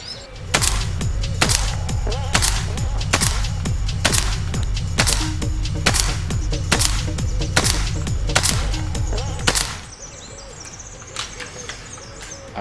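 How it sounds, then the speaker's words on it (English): A BRK Ghost high-power .22 air rifle fires Barracuda Hunter Extreme 18-grain pellets in a steady string of about eleven loud, sharp shots, roughly one per second, over a constant mechanical hum, then stops. "Next up, I'm going to shoot the Barracuda Hunter Extremes"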